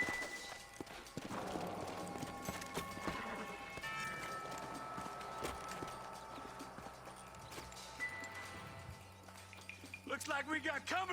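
Horse hooves clip-clop in the Western video game Red Dead Redemption, a steady run of hoofbeats mixed with game music and a faint voice, moderately quiet throughout, with a rider's voice near the end.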